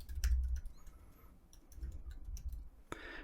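Typing on a computer keyboard while filling in a web form: a quick burst of close key clicks at the start, sparser taps in the middle, then a final louder clack, in a quiet room.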